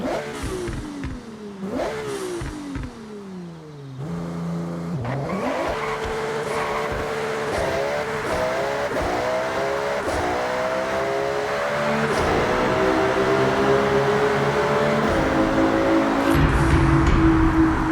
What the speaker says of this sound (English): I guess it's time to go do a sound test with a V6 Ferrari.